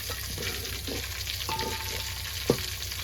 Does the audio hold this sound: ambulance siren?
no